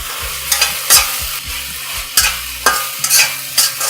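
Onions and tomatoes sautéing in a pan for mushroom masala gravy, loud close sizzling with a rhythmic series of spatula scrapes and knocks against the pan, repeating about every half second.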